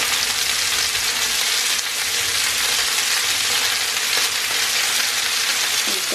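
Sausages and white onion frying in a pan, giving a steady, loud, dense sizzle that continues unbroken throughout.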